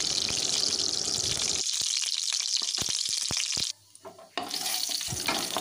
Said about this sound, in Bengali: ফোড়নটা ভেজে নিচ্ছি